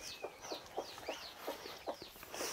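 Chickens cluck behind a coop in a remote old Hmong village, giving repeated short, soft clucks in an irregular rhythm at close to moderate distance, with no talking.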